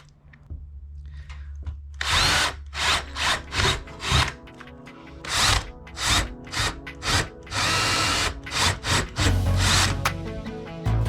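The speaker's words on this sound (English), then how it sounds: "I just need to drill a hole big enough for the toggles to fit through" A power drill bores a hole into a wall for a TV wall mount near a timber stud, running in loud repeated bursts, short pulses of revving separated by brief pauses, then a longer sustained drilling stretch.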